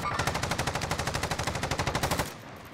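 Rapid automatic gunfire in the video game Call of Duty Warzone, a sustained burst of evenly spaced shots lasting about two seconds before cutting off, loud and without talk.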